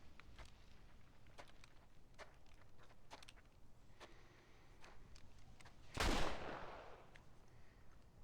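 A single pistol shot in the Western game Red Dead Redemption, one loud sharp burst near the six-second mark, standing out over faint game ambience and scattered light clicks and footsteps.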